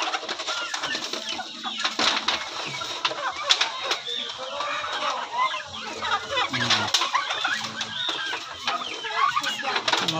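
Turkeys and other poultry cluck, gobble and call at feeding time, a busy, continuous chorus of birds nearby with occasional wing flaps and a little talk mixed in.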